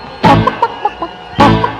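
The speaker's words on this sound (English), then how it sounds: "Where's that chicken sound?" A chicken clucks in two loud bursts separated by a run of softer, short clucks, all with no speech.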